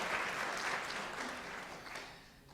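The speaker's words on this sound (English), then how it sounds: "let's give her a round of applause for organizing such a great event" An audience at a storytelling presentation applauds in a faint, distant patter that slowly fades out.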